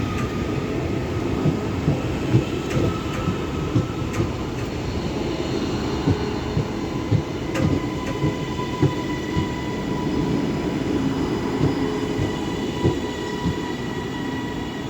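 Northern class 331 unit 331003 passes at Doncaster on the East Coast Main Line with a steady rolling rumble, regular clicks of wheels over rail joints and faint whining tones, continuous for the whole stretch.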